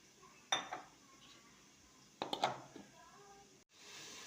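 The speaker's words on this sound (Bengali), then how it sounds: "ঢাকনাটা খুলে দেখে নেব ঝিঙেটা নরম হয়ে গেছে" A metal lid is lifted off a pot of ridge gourd and potatoes cooking in a kitchen. There are two distinct clanking clinks a couple of seconds apart, close and fairly loud against a quiet background.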